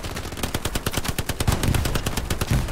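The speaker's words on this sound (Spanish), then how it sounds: "Estoy disparando a destello porque no veo una mierda" Rapid machine-gun fire in the World War II shooter Hell Let Loose, a fast rhythmic stream of close, loud shots with heavier booms mixed in toward the end.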